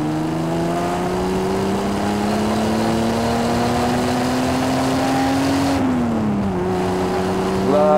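A Triumph TR6 straight-six engine with fuel injection, accelerating on the road as a steady, loud, rising drone climbs in pitch, then dips briefly at a gear change before pulling again.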